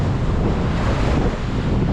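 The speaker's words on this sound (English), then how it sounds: "They are big, the waves." Big ocean waves crash and roll in at Aberdeen beach in Scotland, a loud, close roar of surf buffeted by heavy wind on the microphone.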